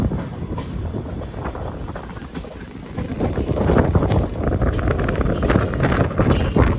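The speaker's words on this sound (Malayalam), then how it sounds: "എന്തൊരു കാറ്റ്, നല്ല കാറ്റ്" Strong wind roars across the microphone during a sleeper-class express train journey through Kerala, a steady broadband rush with rail rumble beneath, building slightly louder partway through.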